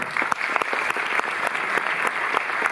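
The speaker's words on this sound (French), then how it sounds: "Vous pouvez les applaudir." An audience at a Paris cinematheque event claps in dense, steady applause, many hands close together with sharp individual claps standing out, continuing throughout.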